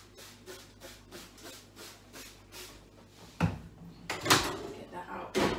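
A microwave is sprayed with Dettol surface cleanser in a series of rapid, even bursts, then rubbed and wiped in louder, uneven strokes nearby.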